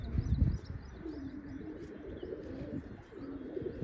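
Pigeons coo in low, throaty bursts, one close and full at the start, then softer overlapping coos with a few faint chirps throughout.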